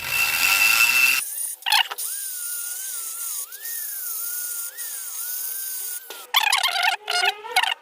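A worn rear brake drum from an automatic scooter is scraped and ground with a tool. It gives a loud harsh rasp, then a long steady whining tone, then more bursts of scraping close up.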